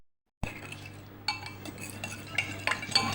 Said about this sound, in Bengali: এটাকে এখন ভালো করে গুলিয়ে নেব